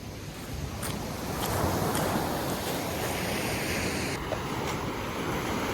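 Ocean surf rolls onto a beach in a continuous broad wash, swelling slightly midway, with wind buffeting the microphone throughout.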